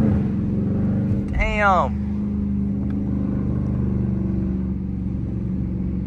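Dodge Charger R/T engine drones steadily and loudly throughout a sideways drift, with a brief tire squeal or engine whine sweep near the start, while someone talks over it.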